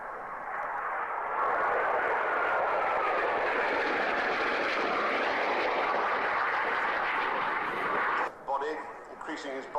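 A Harrier jet in an air show display, a loud sustained roaring jet engine close by, then a person talks near the end as the roar eases.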